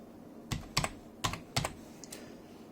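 Someone typing a login on a computer keyboard, a quiet run of about six sharp key clicks in uneven rhythm, close by and alone against a soft background hum.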